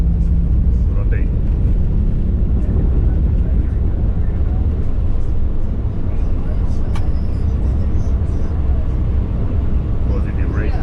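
Steady, loud airplane engine roar from inside the cockpit during takeoff, a dense low rumble with a constant broadband wash that holds without pause; faint voices come through beneath it.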